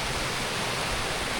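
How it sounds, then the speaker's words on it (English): Water in a stream in the Scottish Highlands, near Clashnessie Falls, rushes in a steady, dense, close wash with no pauses. "I only have to follow this stream."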